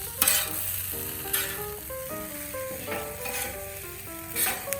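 Shrimp fried rice with hoisin sizzles steadily on a Camp Chef FTG600 flat top griddle as it crusts, with brief scraping stirs and a tonal musical bed running underneath throughout.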